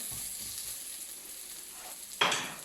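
Onions sautéing in oil for minced meat mini pies, a soft, steady sizzle under quiet background hiss, ending in a sharper burst of frying noise near the end.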